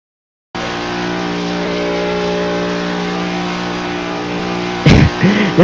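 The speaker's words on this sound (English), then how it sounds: "listen to this number 19's engine" The number 19 race car's engine at the Toro 200, a loud sustained high-revving drone held steady at speed, swelling briefly near the end as it passes close.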